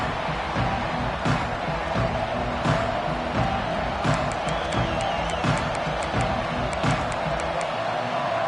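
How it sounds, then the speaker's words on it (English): Arkansas's home football stadium crowd roars as Tennessee, the visiting team, takes the field. The broad, continuous crowd noise sounds distant and washed out, with scattered whoops and a few sharp bursts throughout. "This crowd bringing an ear-splitting welcome to their visitors."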